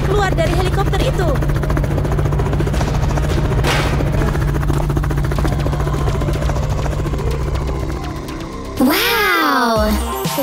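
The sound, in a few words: helicopter arriving from above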